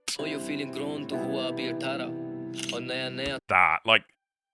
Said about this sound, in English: That camera shutter was not needed there, and it was certainly not needed that loud.